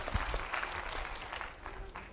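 An audience at a street magic show claps briefly, scattered hand claps forming light applause, with a voice mixed in underneath.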